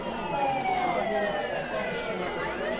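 A police car siren wails continuously with sweeping pitch, heard at a moderate distance over faint street traffic in an evening market area.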